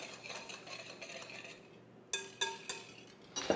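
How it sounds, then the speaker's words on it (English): Whisking cornstarch with other ingredients for a strawberry galette filling, heard as soft rhythmic stirring in a bowl followed by a few sharper clinks of the whisk against the rim, close and fairly quiet. "just whisk these ingredients together"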